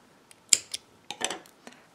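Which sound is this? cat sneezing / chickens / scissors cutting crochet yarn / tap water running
scissors cutting crochet yarn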